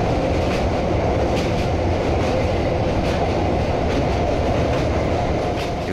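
A train runs toward Hooghly Ghat station near the Hooghly River, a loud, continuous rumble with rhythmic clickety-clack of wheels heard from on board.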